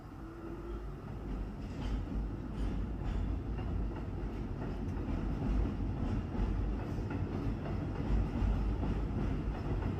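A red subway train rumbles past, a loud, continuous low roar of wheels and carriages holding steady across the whole stretch with faint rattles on top.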